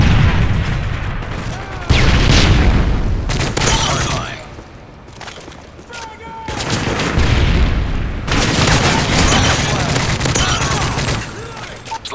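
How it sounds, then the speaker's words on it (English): A stun grenade bursts amid heavy gunfire in Call of Duty: Modern Warfare 3, loud bangs and rapid automatic fire with a brief lull in the middle before the shooting resumes. "and stun grenade!"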